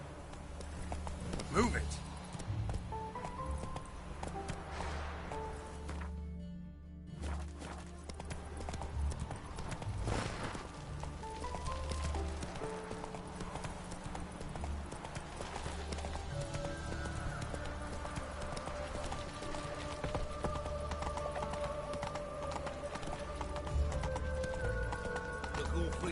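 Horse galloping in a video game, rapid rhythmic hoofbeats clattering steadily across the whole stretch, with a whinny, a brief shout and spoken dialogue over game music and ambience.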